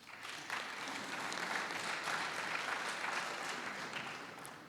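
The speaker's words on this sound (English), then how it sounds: "let's applaud this institution for that." An audience applauds at a memorial lecture, a steady, moderately distant clapping that holds at an even level for several seconds with no speech over it.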